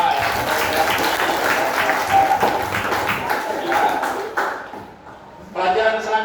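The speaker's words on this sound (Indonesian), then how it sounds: "Kita tepuk tangan dulu dong untuk kita semua ya" Students clap together in a classroom, a dense burst of applause that fades midway before a brief renewed flurry near the end, with chatter mixed in.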